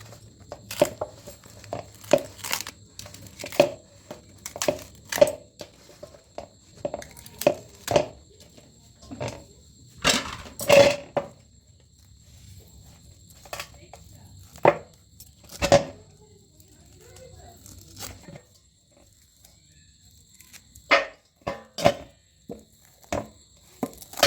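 Skin being peeled off a palmyra palm fruit by hand, a series of sharp tearing and scraping strokes, close and distinct, repeating in irregular bursts with quiet gaps between.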